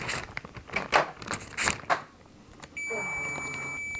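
After some clattering and rustling, a steady high-pitched electronic tone from a LetPot LPH MAX hydroponic garden sounds continuously for about a second, over a low hum.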